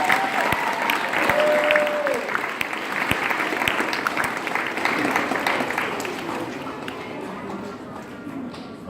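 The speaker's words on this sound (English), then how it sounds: "Give them a round of applause." An audience at a school awards ceremony breaks into sustained applause, loud and dense at first and then thinning as the clapping tapers off, with voices murmuring underneath.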